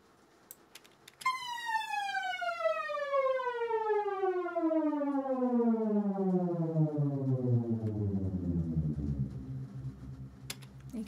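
Logic Pro synth note bending smoothly down four octaves, a bright harmonic tone sliding steadily from high to a deep low C over about ten seconds, loud and alone over faint background clicks.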